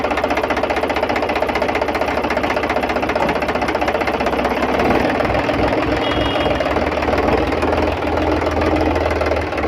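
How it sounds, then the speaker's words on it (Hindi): An Indo Farm 3035 DI tractor engine runs steadily while driving in second gear, a loud, close, continuous diesel chug with a knocking rhythm and mechanical rattle throughout. "तो देख सकते हैं ये भी 2 नंबर सेकंड गियर में भी ट्रैक्टर ड्राइव हो रहा है"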